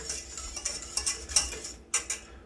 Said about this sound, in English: By adding it to the heat and removing it while whisking